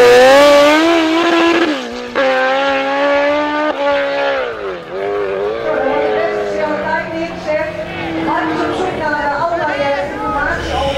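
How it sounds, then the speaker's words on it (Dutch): Mopeds racing at a moped race meeting in Den Bosch, their high, whining engines rising and falling in pitch as they rev and pass, loud and close, with crowd chatter beneath. "die brommers die gaan zo hard"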